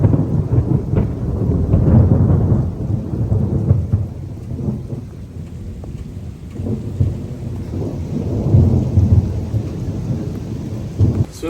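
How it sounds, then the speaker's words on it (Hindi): Heavy thunderstorm during a flood, with repeated deep thunder rumbles rolling over a constant hiss of hard rain, loud and close, no speech. "भाई देखो कितना भयानक तूफान आया"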